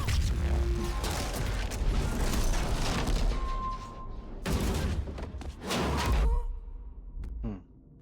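Explosions in Mass Effect 3 come as several heavy booms and crackling blasts with whooshing debris, loud and close, separated by short lulls and ending in quiet.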